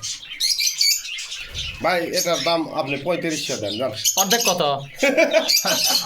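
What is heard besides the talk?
pigeons calling in a loft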